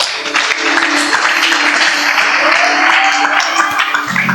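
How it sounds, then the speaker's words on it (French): An audience at a French-language church service applauds Sister Esther with loud, sustained clapping that carries steadily throughout, dense and close, with faint voices mixed in. "Aidez-moi à acclamer Sœur Esther"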